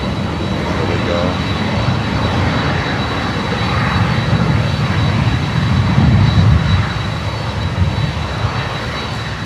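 An airliner touching down on runway 12 at Miami airport, a steady broad engine roar holding loud and close for the whole stretch, swelling slightly midway, with a thin steady whine above it.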